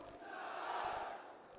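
A crowd at a large farmers' rally and political event in Rajasthan shouts a loud, sustained collective cheer, rising to a peak mid-way and then tapering off.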